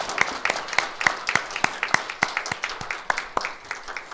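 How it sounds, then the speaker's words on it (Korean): Congregation clapping during a Korean Methodist church anniversary Sunday service, a fairly quick, slightly uneven run of claps from a modest group at middle distance. "하나님께 박수 영광 돌립니다"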